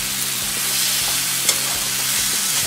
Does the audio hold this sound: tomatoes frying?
yes